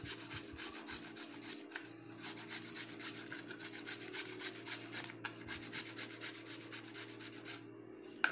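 Pumpkin grated by hand, with a continuous rhythmic rasping scrape as the flesh is drawn back and forth over a grater, close and soft, with no talking.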